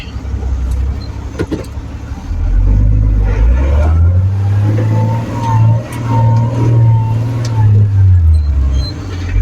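A 4WD vehicle climbs a sandy slope in third gear on Fraser Island's beach tracks, its engine rising into a loud, sustained, close drone with rumbling strain, after a brief stretch of quieter cabin noise.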